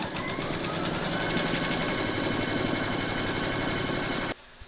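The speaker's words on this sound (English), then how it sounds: "pop your hoop into your machine and stitch round number one, and that's going to give you a placement outline for your batting" An embroidery machine stitches the first placement outline for a large appliqué haunted house, a fast, steady mechanical whir and rapid needle chatter running continuously before stopping abruptly near the end.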